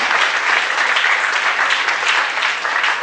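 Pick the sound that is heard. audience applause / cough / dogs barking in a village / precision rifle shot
audience applause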